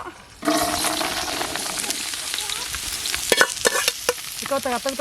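Beans stir-fried in hot oil for fried rice sizzle steadily after a sudden start, with scraping stirs and clattering utensil knocks building toward the end; a voice speaks briefly near the close.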